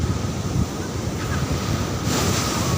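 Ocean surf rushes and churns continuously nearby at Patar Beach in Bolinao, Pangasinan, Philippines, mixed with gusty wind buffeting the microphone.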